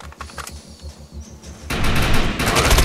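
Rifle gunfire in the video game Defiance: steady rhythmic low thumps of shots at first, then a loud dense burst of rapid automatic fire filling the second half.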